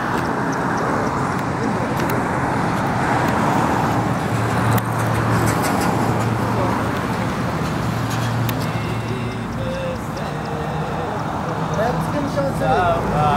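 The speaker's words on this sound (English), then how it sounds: "The other car's leaving." A car pulls away outdoors, its engine a continuous rumbling drone with traffic-like road noise for over thirteen seconds, steady in loudness, while people's voices are heard alongside.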